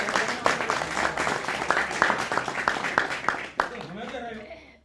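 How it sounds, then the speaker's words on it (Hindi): Audience applause at a Hindi stage play of Premchand's Moteram ka Satyagraha, a dense, sustained round of clapping mixed with speech that fades out near the end. "एक बार ताली बजा दीजिए।"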